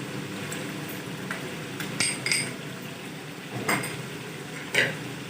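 A spoon stirs ginger garlic paste into chicken karahi in a pan, giving a low steady scraping bed with a few sharp metallic clinks against the pot, close and without talk.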